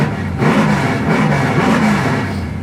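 A 1970 Chevy K10 pickup with a 383 stroker V8 and exhaust cutouts revs up loudly close by, a deep throaty roar rising and holding briefly before easing off.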